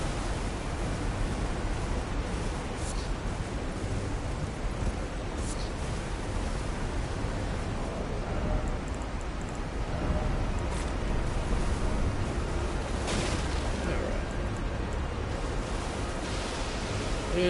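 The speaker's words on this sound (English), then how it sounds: "Yeah, waterfall, you can constantly hear churning." A churning waterfall in the video game Elden Ring gives a steady, low, broadband rush of water that holds evenly for the whole stretch, with no talk over it.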